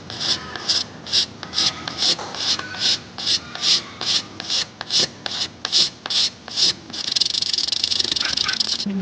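A razor blade scrapes a paint run off a car's clear coat in about sixteen quick, even strokes, each a sharp rasp, followed by a steadier continuous scrape, all close up.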